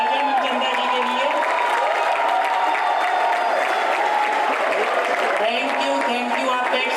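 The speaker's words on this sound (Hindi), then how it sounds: "खड़े होकर जोरदार तालियां अजय मनचंदा जी के लिए." A standing audience at a school annual theater production applauds loudly and continuously, a dense wash of clapping with crowd voices and cheers mixed in.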